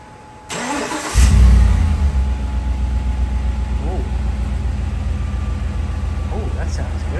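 A GMC Sierra Denali pickup engine cranks and fires up, then settles into a loud, steady rumble through a freshly welded muffler with a slight rev, close by. A voice is briefly heard around the start.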